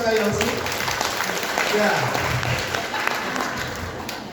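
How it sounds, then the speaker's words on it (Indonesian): Audience applause for a guest at a church prayer gathering, a dense steady wash of clapping across the whole stretch with a brief voice at the start. "Beri tepuk tangan untuk kakak Yosi."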